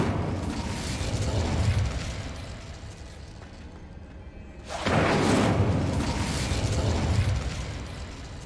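An Incendio fire spell in Hogwarts Legacy, a roaring, crackling burst of flame that swells, fades, then erupts again loudly and rushes on, with no talk.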